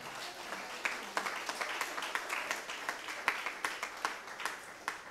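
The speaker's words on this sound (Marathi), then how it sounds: "येस, टाळ्या वाजवा" A church congregation claps during a Eucharist service, giving a rhythmic run of fairly faint, distant-sounding claps at a steady pace with a murmur of voices underneath.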